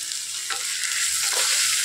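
Vegetables with potato sautéing in a pan for veg kurma: a continuous close sizzle with two soft stirring scrapes.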